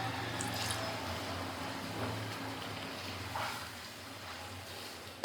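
Water poured from a tap or jug into a large stainless steel cooking pot in a home kitchen, a steady filling rush lasting several seconds at close range, ending with a sharp knock.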